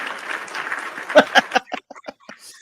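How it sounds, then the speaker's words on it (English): Brief round of applause on a live sports talk show, a quick flurry of claps that thins to a few scattered ones and fades out. "I'll give you a roaring round of applause on that one"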